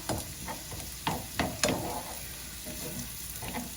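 Shredded jackfruit and onions fry in a pan and are stirred together, a soft steady sizzle broken by several scraping stirs of a utensil against the pan, close up.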